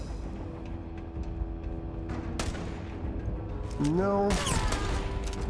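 Gunfire in the space RPG Starfield, loud broadband bursts and booms spread through a dense combat mix, with a voice speaking over part of it.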